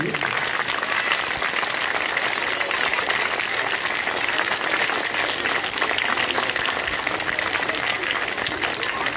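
Steady, continuous applause from an audience at a school fair, dense clapping at an even level without pause.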